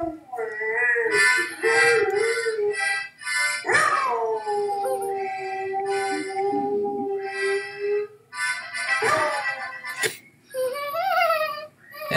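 A dog howls and whimpers in long, rising and falling cries broken by short yips and whines, loud and close, continuing for several seconds with brief pauses between phrases.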